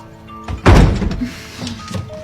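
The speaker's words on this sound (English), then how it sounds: "she started slamming into it with her body" A woman throws her body against a stuck storeroom door, giving one heavy thudding slam with a short rattle afterward, close and loud.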